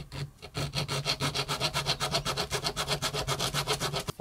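A small art-knife saw blade cuts through wood on a tabletop in a steady, rapid back-and-forth rhythm of about thirty close, crisp rasping strokes, with no talking.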